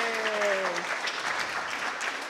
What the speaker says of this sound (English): Let's have a round of applause to get everyone going.